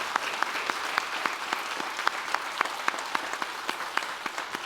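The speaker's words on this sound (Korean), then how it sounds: "우리 모두를 향해서 뜨거운 박수 한 번 더 합시다" A church congregation applauds, with individual claps standing out sharply in a fairly regular rhythm over a softer bed of clapping, moderately loud and heard alone.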